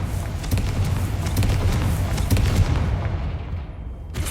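Confringo fire spell explosion in Hogwarts Legacy, a booming, rumbling blast that rolls on for several seconds and fades with a final thump near the end, loud and with no voices.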